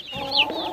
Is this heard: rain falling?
no